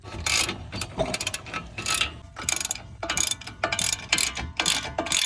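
Steady clicking of a ratchet tightening brake caliper bolts on a Jeep Cherokee, worked in repeated bursts, close by, with short pauses between runs of rapid mechanical ticks.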